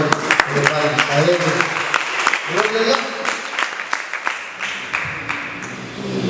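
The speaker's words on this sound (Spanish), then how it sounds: "Si usted quiere darle palmas al Señor," A church congregation claps for the Lord during a service. The clapping is uneven and moderately loud, mixed with talking and shifting in seats as people sit down.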